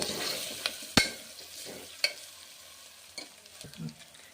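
Turmeric is stirred into a frying base for Telangana-style mutton paya curry, with a soft sizzle under a handful of sharp spoon-on-pan scrapes and clanks spaced about a second apart, nearby and without talk.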